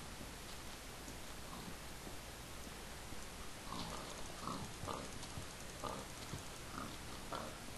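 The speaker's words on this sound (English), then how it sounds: "Now we just have to kill off the rest of these pigs" Pigs oinking in Minecraft Skyblock, several short grunts scattered over a steady hiss, faint and fairly distant, with no talk.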